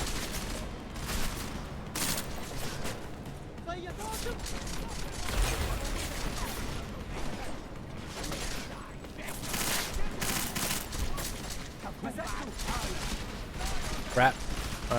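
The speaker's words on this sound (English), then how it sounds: "I do not like this machine gun." Steady machine gun fire in Deus Ex: Mankind Divided, a continuous rattling stream of shots at moderate distance, with a person talking over it at times.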